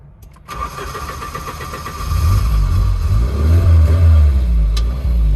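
A 1984 Volvo 240 under restoration starts up and settles into a low rumbling idle, then the engine is gently revved with rising and falling throaty surges, close by with no talk.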